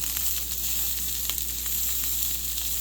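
Pork chops sizzle in a frying pan as they are turned over, a loud, steady hiss of frying with small crackles and pops throughout.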